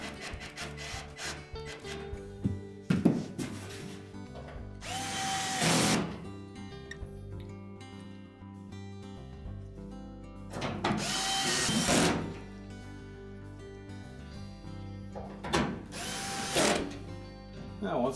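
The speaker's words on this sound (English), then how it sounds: "Then just line up the screw holes and install the screws." A power drill drives screws into the back panel of a Whirlpool washer, with three loud whirring bursts spaced several seconds apart and quieter handling noise in between.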